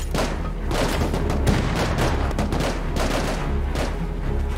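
Dense, continuous gunfire and explosions from a helicopter bomb raid in the Rust video game, a loud rolling barrage of overlapping shots and booms with no pauses.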